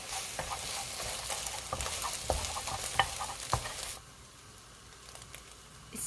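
Onion and egg stir-fried in a pan over high heat, with a spoon scraping and tossing the food through a steady sizzle for several seconds before the noise drops to a quiet hiss.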